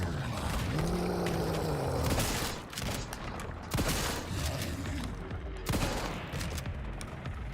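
Shotgun fire in a horror video game, several heavy blasts and booming impacts spread across the span amid rumbling mechanical noise and a low groaning tone, loud and dense.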